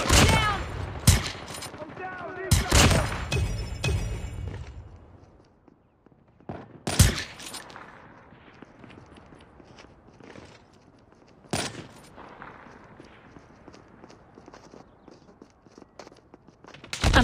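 Gunfire in the mobile shooter Call of Duty Mobile during a ranked deathmatch on the Crossfire map, sharp nearby shots and bursts scattered irregularly, with footsteps and quieter movement sounds between them.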